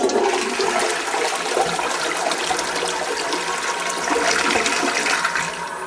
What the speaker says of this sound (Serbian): Zanimalo me je u kom smeru se stvarno vrti voda u WC šolji.